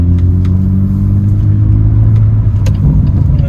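A BMW M2 with the N55 engine and manual gearbox drives along steadily, a continuous loud low engine drone and road rumble filling the whole stretch, with a few faint clicks near the end.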